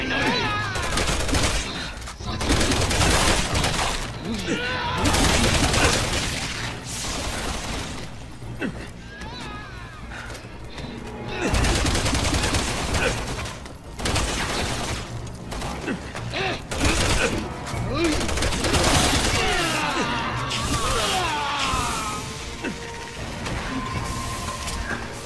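Gunfire in the video game Resident Evil 6 comes in loud, dense bursts and rattling volleys, broken by a few short pauses, with mechanical clanks mixed in and voices talking over the action.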